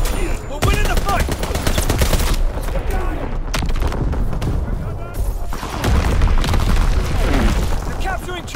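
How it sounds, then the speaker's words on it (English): Gunfire and grenade explosions in the Call of Duty: WWII video game during a domination match on the Shipment 1944 map, with dense, loud automatic fire and booming blasts throughout, overlapped by game voices. "Charlie firing on target"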